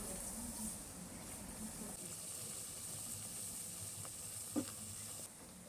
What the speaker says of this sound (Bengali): এদিকে পেঁয়াজটা ভাজা হতে হতে